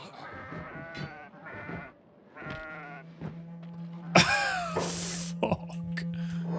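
Goats attacking in the Kenshi game give several bleating, wailing cries, some short and some drawn out. A sharp burst of noise rises near the end over a steady low hum.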